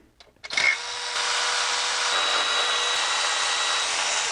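Power tool spinning out 10 mm bolts on a BMW M62TU V8 engine in an E53, a brief clunk then a sustained high whirring drone held steadily, close and loud.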